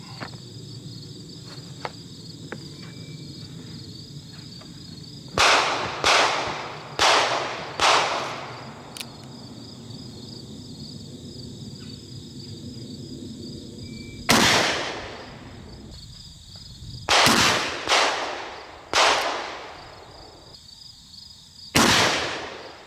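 Shots from a Colt cap and ball pocket revolver crack out in quick bursts of three to four, each with a reverberant decay, over a steady outdoor background of insect chirring.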